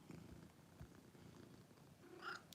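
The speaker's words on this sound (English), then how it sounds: "I don't know if you can hear her purring or not." A cat purrs softly and continuously, very faint and close, with a few small rustles and no talking.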